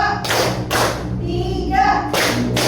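A group claps in time during a university class session, with two bursts of claps separated by a short pause. Voices are heard between the bursts, and the clapping comes through clearly and close.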